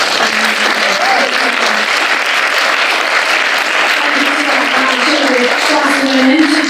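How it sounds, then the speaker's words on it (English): Steady, loud audience applause fills a panel event, dense and continuous throughout, with some voices and cheers mixed under the clapping. "Can we have another round of applause?"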